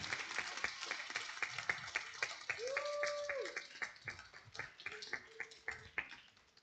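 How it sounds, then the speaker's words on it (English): Scattered applause from a small audience at an arts and culture event, sparse distinct claps with quiet murmuring voices and a brief tonal sound in between, fairly faint. "Can we have big applause to her?"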